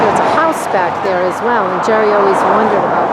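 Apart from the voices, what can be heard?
No everyday noise stands out behind the speech.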